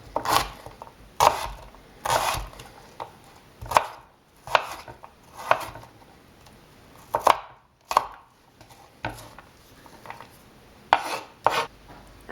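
A knife chops an onion on a board while mater paneer is being prepared, making about a dozen crisp, separate cuts, spaced irregularly around one per second, close and fairly quiet.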